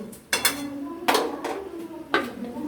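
A metal lid clanks onto a pan of chicken curry in a home kitchen, several sharp close metallic knocks and rattles spaced across a couple of seconds over a faint background.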